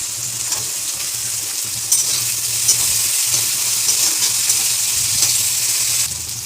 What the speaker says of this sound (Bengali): এবার আমি দিব পেঁয়াজ কুচি হালকা করে ভেজে নেব রসুনটাও দিয়ে দেবো